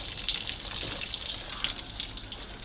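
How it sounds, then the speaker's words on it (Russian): Water gushes and trickles out of a ZIL 131 truck in a faint, continuous, splashing flow with small irregular spatters and no voices. "Все, водичка поплыла."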